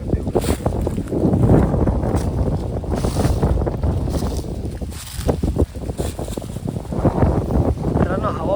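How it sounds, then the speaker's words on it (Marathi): Strong wind gusts buffet a jungle campsite, roaring loudly against the microphone in surging waves while someone talks over the blustery noise. "मित्रांनो, हवा बघू शकता तुम्ही किती आहे इथे हवा"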